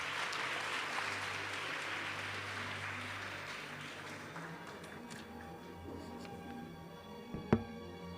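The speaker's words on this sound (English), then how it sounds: "please join me once again in giving a warm round of applause to all our speakers." Warm round of applause from a conference audience at a leaders summit session, steady broadband clapping that gradually thins out over several seconds, with a sharp knock near the end.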